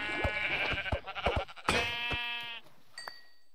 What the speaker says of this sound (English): I probably should have been keeping an eye on that sheep.